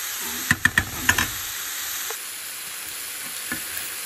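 Fajita meat frying with seasoning mix, loud steady sizzle close by with a quick burst of stirring scrapes and clacks early on, then continuous hissing frying alone.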